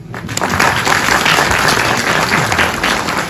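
A crowd applauds at an outdoor family picnic, dense steady clapping from many hands that fills the whole stretch at close range and stays loud throughout.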